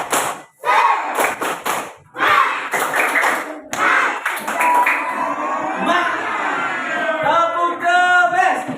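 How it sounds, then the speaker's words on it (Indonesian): Classroom of students in an Indonesian primary school lesson on simple fractions doing a 'tepuk semangat' clapping chant, rhythmic group claps and thumps mixed with children's chanting voices throughout. "Tepuk semangat."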